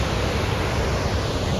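Glacier-fed Icelandic waterfall, a loud, steady, broadband roar of rushing water that fills the entire moment without pause or variation, heard up close.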